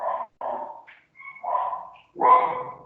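Dogs bark in a few short, separate bursts, fairly close and clear, with brief silences between the barks and no talking.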